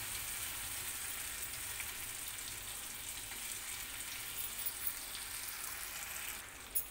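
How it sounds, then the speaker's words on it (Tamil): Marinated kavalai fish sizzles on a hot dosa griddle over a slow flame, a faint, steady frying hiss with small crackles and no talk. "தோசைக்கல் காஞ்சோன்னே ஸ்லோ ஃப்ளேமில் பண்ணிவிட்டு இப்போ மீனை அடுக்கிடலாம்."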